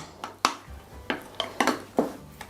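Sour cream and powdered sugar are mixed in a bowl for a green Malachite cake, with about six quick scrapes and taps of utensil against dish at an uneven rhythm, close and alone.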